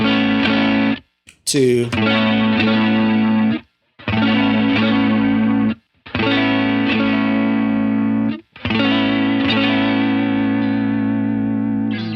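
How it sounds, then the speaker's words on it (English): Electric guitar run through a small modulation pedal, cycling through light and heavy chorus and light and heavy vibrato presets; sustained strummed chords with warbling shimmer, separated by short silences. "So the way I have it set up is I have a light chorus, a heavy chorus, a light vibrato, and a heavy vibrato."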